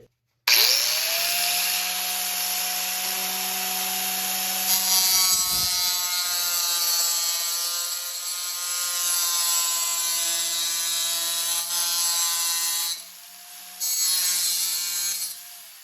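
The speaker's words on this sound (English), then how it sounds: "that's for cutting the vinyl planks" Vinyl floor plank being cut with a blade, a long loud rasping, scraping stroke with ringing tonal squeals, near and steady, briefly pausing before resuming at the end.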